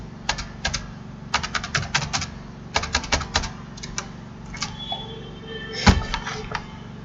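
Crisp clicks of a computer keyboard arrive in quick bursts and pauses while a password is entered, close and clear, with one louder clack near the end.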